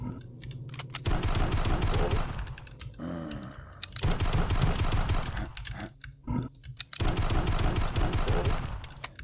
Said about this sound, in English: that secret also gave us the teeth gun, which is basically our machine gun